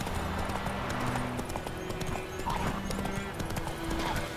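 Horse hooves clip-clopping in The Witcher 3 video game, a steady rhythmic beat of a ridden horse running at close range, with a brief whinny and faint game music and ambience underneath, no talk over it.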